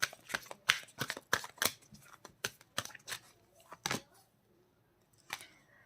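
Tarot cards being shuffled and drawn at close range, a quick run of crisp riffling snaps and slaps that thins into a few sparse flicks. The cards are fairly quiet and no one speaks.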